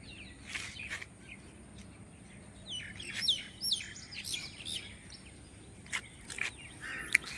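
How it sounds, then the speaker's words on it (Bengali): Birds sing outdoors near a temple under construction, a series of bright chirps and short tweets scattered irregularly over a quiet background, some calls nearer and louder than others. "আর শুনতে পারা"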